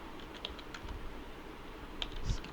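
Keystrokes on a computer keyboard while entering 8086 assembly code, a short run of soft, irregular clicks heard up close and faintly, with no voices.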